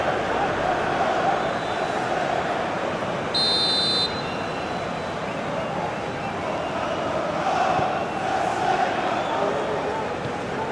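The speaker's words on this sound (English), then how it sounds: "You can hear the annoyance in the crowd." In a simulated Premier League football video game between Manchester United and West Ham, a stadium crowd roars in a steady, dense wash throughout, with a brief buzzer tone partway through and commentary voiced over the top.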